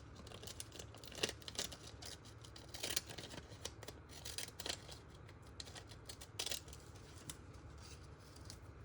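Scissors trimming magazine fussy cuts at a desk: a quick run of quiet, close snips with crisp paper rustles, uneven rhythm and no talking.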